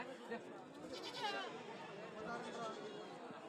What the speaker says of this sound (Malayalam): ഇവിടെ കുറച്ച് ആടുകളെ വാങ്ങി കെട്ടിയിരിക്കുകയാണ്.